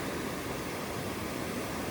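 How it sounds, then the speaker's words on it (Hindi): River water rushes at Sahastradhara in a constant, loud, hissing roar with no break, filling the whole stretch. "ये देखो जी सहजदारा के हाल, क्या बेहतरीन पानी चल रहा है इस समय"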